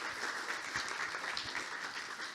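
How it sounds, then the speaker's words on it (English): Audience at a talk on Singapore's spider diversity applauding the speaker, a continuous bed of clapping from many hands at moderate volume, with no speech. "big round of applause for Joseph"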